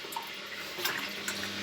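Water from kettles pours into a scrap washing machine, a steady close splashing rush with a few brighter spatters, no voices.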